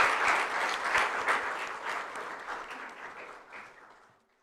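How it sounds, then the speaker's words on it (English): Audience applause for a group of children after their chanting at a Gita Jayanti celebration at a yoga college, with dense steady clapping from a sizable crowd that gradually thins and fades out. "Can we have one more round of applause for these beautiful kids?"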